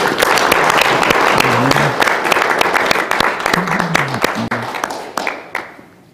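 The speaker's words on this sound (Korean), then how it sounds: "박수 한번 더 쳐주시죠" Loud audience applause fills the room, dense clapping that gradually thins and fades toward the end, with a brief voice underneath.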